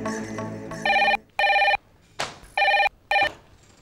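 A telephone rings in an indoor scene, four sharp electronic bursts in an even rhythm with short gaps between them, loud and close. A brief voice and other sounds are heard before the first ring.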